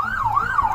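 A wailing siren rises and falls in a steady, continuous sweep, loud and close, with nothing else prominent.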